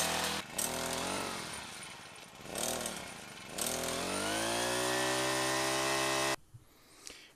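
A stand-up scooter fitted with a Honda four-stroke engine conversion starts and runs, its small motor revving in buzzy rising and falling bursts before settling into a steady high whine that cuts off abruptly.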